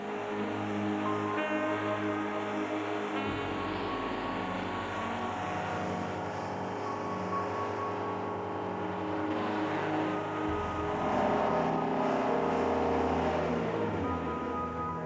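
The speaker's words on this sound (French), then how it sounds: "Il monte ensuite à 4000 tours minute, avec post-injection pendant le temps nécessaire à la régénération forcée." A Peugeot engine runs at high revs, around 4000 rpm, during a forced particulate filter regeneration, a sustained steady drone with shifting tones and a slight change in pitch partway, with no voices.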